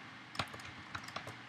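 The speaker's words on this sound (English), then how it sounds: "I'm going to type in Puppet agent test" Keys on a computer keyboard clatter in a few quick, uneven bursts as a command is typed into a Puppet configuration server terminal, close and fairly quiet.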